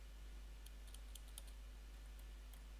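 Typing on a computer keyboard, heard as faint, scattered key clicks over a steady low hum, quiet and close.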